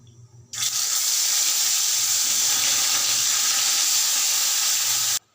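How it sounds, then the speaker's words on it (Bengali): Fish goes into hot oil in a home kitchen pan, setting off an abrupt, loud, continuous hissing sizzle that holds steady for several seconds and then cuts off sharply. "তেলটা তো গরম হয়ে গেছে, এবার আমি মাছগুলো ফ্রাই করতে দিয়ে দেবো।"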